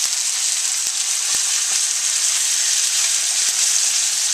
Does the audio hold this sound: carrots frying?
yes